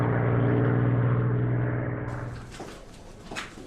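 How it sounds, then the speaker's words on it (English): Dambusters Squadron bomber planes flying in tight formation give a loud, steady propeller-engine drone that fades and drops away after about two seconds, leaving scattered softer noises. "The Dambusters Squadron, flying a tight formation, each plane dropping 5 loads of foil every minute."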